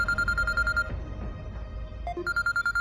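A telephone rings in a house late at night, two bursts of repeated electronic trills separated by a short pause, fairly close and clear.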